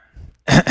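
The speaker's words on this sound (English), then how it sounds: "That's my dad's freaking cough right there." A single harsh cough, loud and close, preceded by a faint throaty rumble and followed by a second quick burst.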